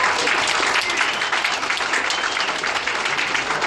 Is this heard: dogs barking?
no